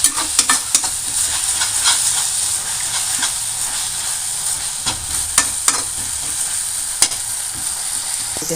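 Sorrel leaf (pulicha keerai) chutney cooking in oil, stirred in the pan: a loud, continuous sizzle with repeated spatula scrapes and clacks at irregular intervals, close up and free of talk.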